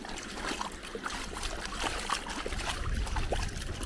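Cold water trickles and splashes steadily close by as muddy trail-running shoes are rinsed at Lyme Park, UK, with small irregular drips over a low outdoor rumble; no one speaks.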